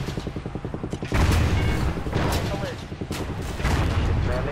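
A missile launches with a sudden loud roaring burst after a stretch of rapid rhythmic mechanical thumping, then rumbles on with further booms and rushing noise, close and heavy.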